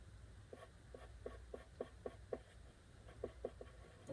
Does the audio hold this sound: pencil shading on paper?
yes